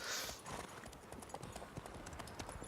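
Steady clip-clop of horse hooves trotting at an even pace in the video game The Witcher 3: Blood and Wine, fairly quiet and close, with faint ambient sound behind.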